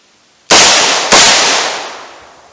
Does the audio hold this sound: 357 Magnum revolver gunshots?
yes